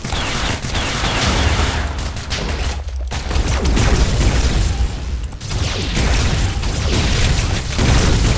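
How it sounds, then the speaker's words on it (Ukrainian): Minecraft sniper battle gunfire and explosions, a dense, continuous barrage of loud booms and rapid shots filling the scene, with brief lulls between bursts and almost no talking. "вони стріляють"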